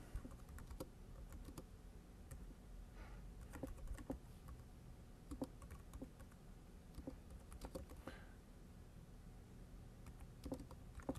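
Faint typing on a computer keyboard, a quick irregular patter of soft key clicks running continuously.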